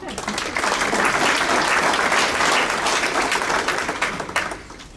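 A crowd at a school district's distinguished staff awards ceremony breaks into loud, full applause, clapping that builds quickly, stays dense for a few seconds and then eases off.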